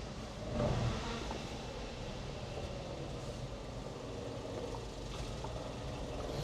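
A 1997 Honda Acty SDX 4WD mini truck moves off in first gear, giving a steady low engine rumble with a brief rise near the start. Heavy rain falls throughout and stays close and constant.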